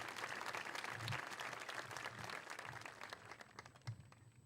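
Applause from an audience at a school graduation celebration, a dense, fairly distant patter of many hands clapping that continues steadily with slight swells and a few louder claps.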